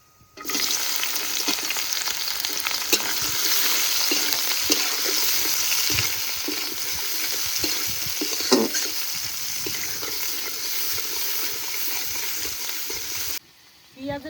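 Sliced onions fry in hot oil with whole cumin, cinnamon, cardamom and cloves, a continuous loud sizzle with occasional stirring clatter and pops, running steadily before stopping abruptly.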